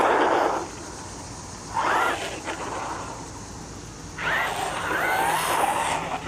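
A Hosim brushless RC truggy motor whines in three bursts during a wheelie, high rising electric squeals with quieter gaps between them, fairly close.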